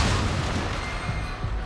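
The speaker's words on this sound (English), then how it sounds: "An explosion booms from the ship's depths." A deep explosion booms from the depths of a ship in the video game Reverse 1999, a heavy, close low-end rumble rolling on with dull thuds and no talk.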